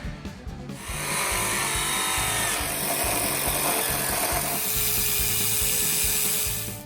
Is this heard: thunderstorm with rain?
no